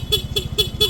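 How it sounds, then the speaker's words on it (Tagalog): The stock horn of a Yamaha Mio Gravis motorcycle gives four quick, loud, close beeps in an even rhythm, each short toot separated by a brief gap, over a low idling hum. "stock horn yung tutunog kay sir"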